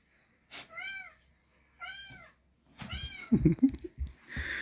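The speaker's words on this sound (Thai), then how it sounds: "เสียงแมว" A cat meows three times, drawn-out and fairly clear, with some rustling and handling noise near the end.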